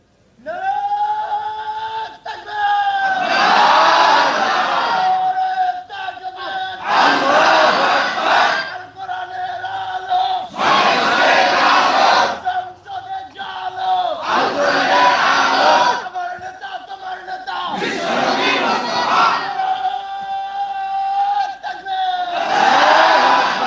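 A large crowd at an Islamic sermon gathering in Rajshahi, Bangladesh, chanting the slogan Naraye Takbir, Allahu Akbar: a lone voice calls out, and the crowd roars back in loud, repeated waves of call and response.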